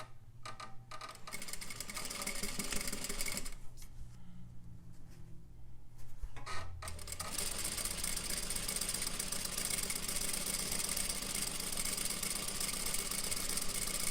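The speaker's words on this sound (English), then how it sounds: "needle down, sew and backstitch" Sewing machine stitching a plain seam on fabric with a backstitch, the motor whirring loudly and steadily nearby, stopping briefly in the middle, then running on again continuously.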